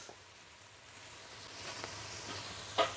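Tomatoes with garlic and ginger paste sauté in a pan for Ceylon duck biryani, giving a soft, steady sizzle that swells slightly, with a brief clink near the end.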